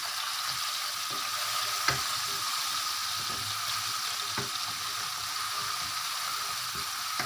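Ingredients for chicken chow mein fry in a spoonful of hot oil over a high flame, a steady hissing sizzle with faint occasional stirring clinks and no talk.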